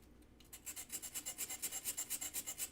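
An enamel piece's edge scrubbed up and down on an aluminum stone: a steady, rhythmic gritty rasping, about five strokes per second, close and fairly quiet, with no talking.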